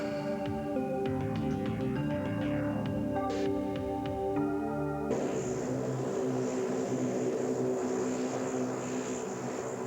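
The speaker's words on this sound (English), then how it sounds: "Heading right for the eye of the storm is NOAA's reconnaissance plane" A NOAA hurricane reconnaissance propeller plane drones loudly and steadily, its engine hum shifting partway through into a broader roaring rush.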